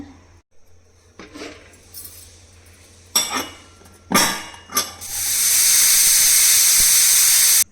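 A few metallic clinks and taps, then a loud, steady hiss of escaping steam from a pressure cooker cooking lentils and ridge gourd rises and continues strongly to the end.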